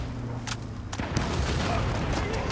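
Enemy gunfire in the video game Battlefield: Bad Company, a few sharp shots over a steady din of battle noise and low rumble, with scattered close reports cutting through a dense, continuous background.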